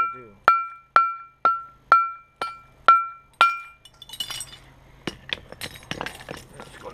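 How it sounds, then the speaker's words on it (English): Stone is worked by flintknapping and pressure flaking: about seven sharp, ringing clicks come at an even half-second pace, then softer scraping and scattered small taps follow up close. "It's going to take some alternate flaking to go around that end to thin it out of there."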